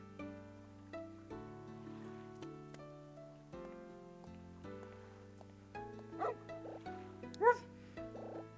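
A dog in the adventure game Another Code R gives two short barks near the end, set over a soft, steady melodic background tune.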